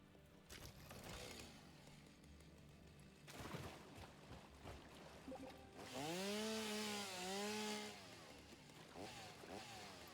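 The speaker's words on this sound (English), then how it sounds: "Oh, I already have my chainsaw." A chainsaw in a video game revs up in a loud, rising and falling burst partway through, preceded by softer game sounds and brief voice activity.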